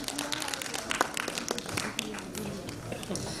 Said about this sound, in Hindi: जोरदार तालियों से आपका स्वागत